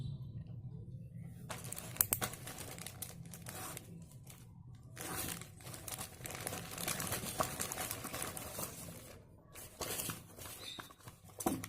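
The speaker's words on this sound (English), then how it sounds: "So let's unbox this earphone." An earphone box is unboxed by hand, with soft crinkling, tearing and tapping of packaging in irregular bursts, close and fairly quiet.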